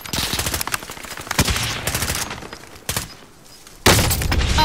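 Gunfire in Call of Duty: Modern Warfare's Quarry map comes as rapid close bursts of automatic fire and sharp shot cracks, pausing briefly before a loud final burst, with no talking.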